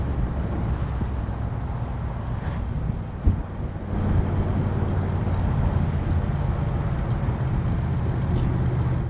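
A 427Hardtops DAX Cobra with a De-Dion chassis cruises in third gear at around 1500 RPM on light throttle, a steady low rumble running beneath heavy wind buffeting, with one brief knock partway through.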